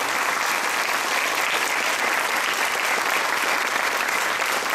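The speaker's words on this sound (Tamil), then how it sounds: "ஒரு நிமிடம் நான் ஸ்டாப்பாக நீங்கள் கை தட்ட" A live audience at a jubilee celebration function in Valasaravakkam, Chennai, breaks into loud, sustained applause, a dense even wash of clapping filling the whole stretch with no pauses.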